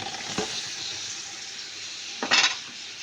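Steady close sizzle of chicken masala frying in a pan, with a soft thump and a louder burst of crackling near the end as chopped tomatoes drop in; no talking.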